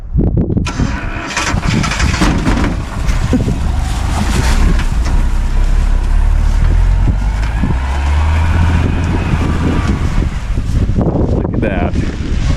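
Old rescued pickup truck, pulled dead from a field, engine running loud and rough with a deep rumbling idle and revving as it starts to drive, while people talk over it.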